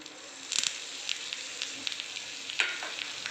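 A tempering of curry leaves and red chili crackles in hot oil with asafoetida and urad dal for dahi poha, giving a steady sizzle with sharp pops and spits rising above it.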